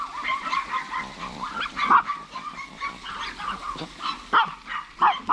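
Chihuahuas bark and snarl aggressively at close range, sharp calls overlapping in irregular bursts.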